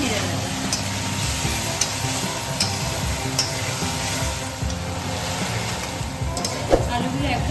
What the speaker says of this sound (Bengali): এবার দুটো তরকারি দিয়ে দেবো।